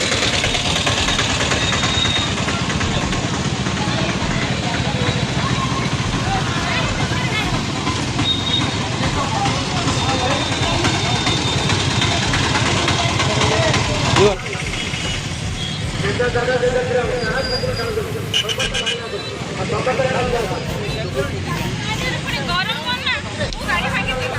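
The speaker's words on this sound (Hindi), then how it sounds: "पूरा ट्रैफिक जाम अच्छी ये भाई" Heavy traffic jam near the Bhadrakali temple in Bhadrak during Kali Puja: a continuous dense roar of idling engines and crowd babble, close and steady, with a shift in tone partway through.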